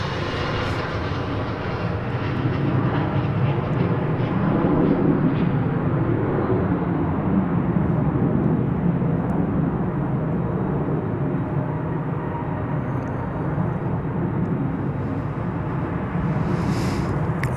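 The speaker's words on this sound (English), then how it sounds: "That, ladies and gentlemen, was American Airlines Flight 831 arriving from Monterrey, Mexico, an Airbus A320." An Airbus A320 airliner arriving at Dallas/Fort Worth airport rumbles past at length, a broad steady roar that swells and slowly fades as it passes, with no talking.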